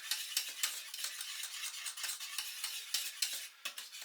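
A spoon keeps scraping and stirring a thick cheese sauce for cauliflower cheese in a pan at low simmer, giving rapid, close, rhythmic swishes and scrapes with no voices.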